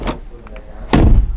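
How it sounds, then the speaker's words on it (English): The door of a 2025 BMW 2 Series Gran Coupe closes with one solid, close thud. A faint click comes just before it. "BMW deserves credit for the sound of their doors"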